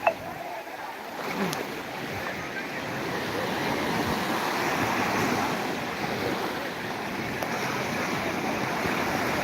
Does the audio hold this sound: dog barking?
no